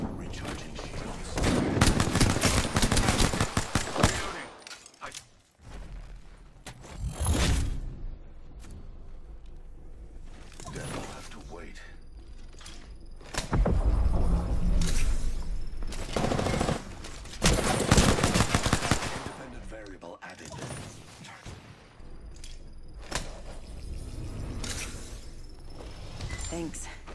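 Gunfire crackles through a firefight as Caustic in Apex Legends, with repeated bursts and volleys coming in loud clusters separated by brief lulls, mixed with game voice lines.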